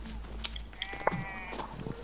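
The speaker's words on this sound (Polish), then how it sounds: "Owca, owca, owcy! O, owce!" Sheep in the Lego Fortnite video game let out a short bleat over a steady game soundtrack, with a voice briefly audible in the background.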